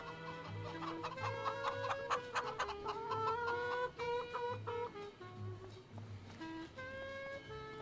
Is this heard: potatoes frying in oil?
no